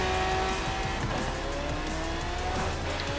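Off-road car driving in Forza Horizon 3, with a steady loud engine drone, shifting engine tones and tire noise running continuously through the whole stretch.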